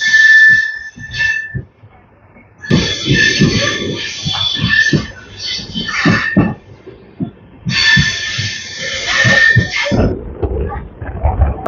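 The Duronto Express from Mumbai to Hapa rushes past at a crossing, its wheels clattering in rapid rhythmic bursts under loud, sustained whistle-like tones that cut in and out.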